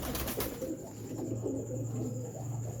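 A large black-mottled breeder pigeon coos in soft, low rolling phrases that come close and steady over a faint hum, with no voices.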